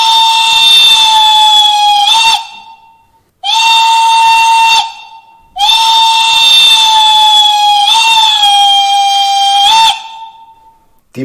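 Three blasts from the whistle of a gauge 1, 1:32 scale KM1 model Prussian T3 class 89.74 steam locomotive, loud and shrill, each lasting a few seconds with slight pitch wavers and short gaps between.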